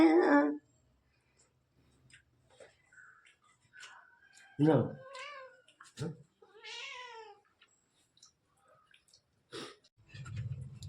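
A house cat from a relative's home in Kerala meows several times, short clear calls spread through the stretch with quiet gaps between them, heard near the microphone with only faint background murmur.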